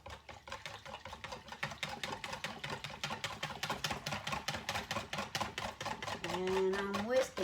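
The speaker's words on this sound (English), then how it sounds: "And I'm whisking, stir. gelatin, 4 packages" A whisk beats a gelatin and sugar mixture in a bowl in quick, steady rhythmic strokes, fairly close and even, and a brief higher tone rises near the end.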